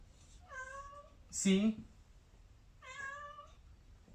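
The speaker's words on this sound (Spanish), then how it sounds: "mi gato tiene hambre?" A hungry cat meows clearly and close by, three drawn-out calls with a louder, rougher one in the middle, and a voice speaks briefly among them.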